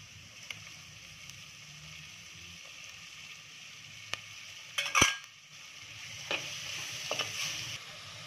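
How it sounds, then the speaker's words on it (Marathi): Onion and tomato sautéing in a pan for a brinjal and potato curry: a soft continuous sizzle with a few sharp stirring scrapes and clinks, fairly quiet, no talk. "चांगला परतून झाले आपला कांदा टोमॅटो"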